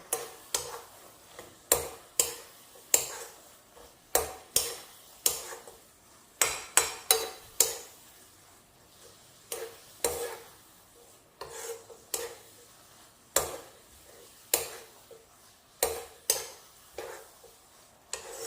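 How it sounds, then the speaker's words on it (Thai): A Thai pork skin salad being stirred in a bowl, with repeated rhythmic scraping and rubbing strokes at a steady pace, close and moderately quiet. "คนให้เข้ากันนะ"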